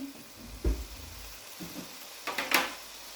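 Green chillies frying in oil with yogurt for a Shinwari mutton karahi: a soft, steady sizzle with a few clunks of stirring and utensils on the pan, fairly quiet and close.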